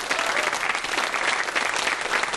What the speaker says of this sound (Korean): 여기에 계신 모든 분들이 똑같은 박자로 박수를 쳐주시기 바랍니다